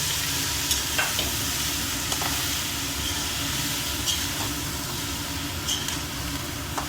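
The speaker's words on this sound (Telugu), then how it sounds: "మీల్ మేకర్ కూడా ఫ్రై చేసుకుందాము ఇట్లానే, ఇందులోనే మీల్ మేకర్ కూడా వేసుకుందాము." Meal maker soy chunks fry in a pan for paneer biryani, giving a steady, dense sizzle with light crackle and stirring scrapes throughout, no voices.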